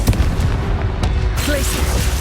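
Confringo fire spell fired in the game Hogwarts Legacy, a sharp booming blast up front followed by crackling impacts and rumbling combat effects, loud and close.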